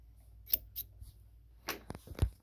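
Scissors snipping serger thread indoors, a few quick, crisp cuts in two short clusters, close and clear against near silence, with no one talking.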